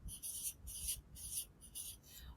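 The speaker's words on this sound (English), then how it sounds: "I'll write the word tablespoon" A pen scratches quick tally strokes on paper, about five short, evenly spaced scrapes, quiet and close.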